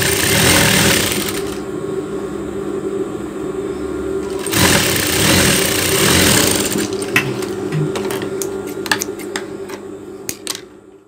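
A sewing machine hums and stitches in fast, loud runs along the crotch seam of a pair of shorts, stopping and starting, then giving way to short clicks and taps at the end.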